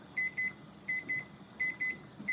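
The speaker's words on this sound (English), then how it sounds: "that timer is letting me know that everything on the stove should be ready" A kitchen timer beeps during home cooking at the stove, sounding four pairs of short, thin electronic beeps in an even rhythm, faint but distinct over quiet room noise.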